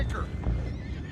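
A horse in Red Dead Redemption 2 lets out a short, loud whinny, close up, with faint hoof clops beneath it.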